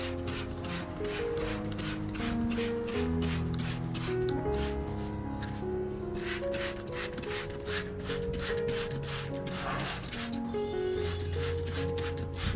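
Short hissing spritzes from a spray bottle misting orchid leaves repeat in quick bursts, with soft music playing steadily underneath.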